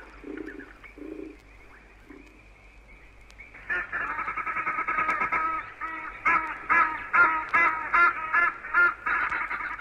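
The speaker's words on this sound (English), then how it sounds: "Something has upset the Egyptian geese." Egyptian geese on an African safari honk and cackle, starting with a few distant calls and then erupting into a loud, rapid chorus of repeated harsh honks.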